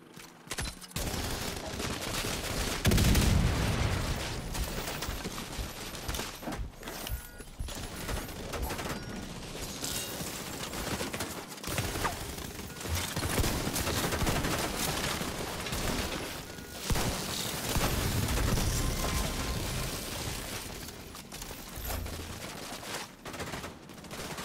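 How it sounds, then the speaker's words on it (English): Sustained automatic gunfire from the shooter game The Division 2, with heavy overlapping bursts and rattling volleys forming a loud, steady wall of combat noise with no clear pauses. "someone's shooting at us."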